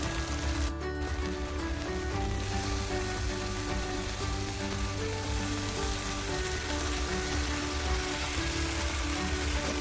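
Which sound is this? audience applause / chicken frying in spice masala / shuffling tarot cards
chicken frying in spice masala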